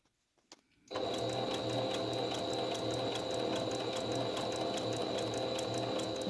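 A home sewing machine runs steadily, stitching fabric around the curved bottom edge of a medical mask, its rapid mechanical chatter continuous and close after a brief quiet start, with no talking.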